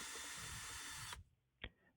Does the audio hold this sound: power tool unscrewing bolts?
yes